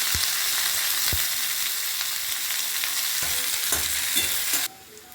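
A steady hiss of onion and chilli frying in hot oil, with a few soft stirring knocks, stops abruptly near the end.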